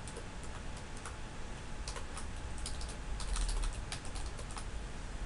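Computer keyboard keys typed in short bursts of clicks at close range, over a steady background hiss, during a Windows PC setup for Minecraft.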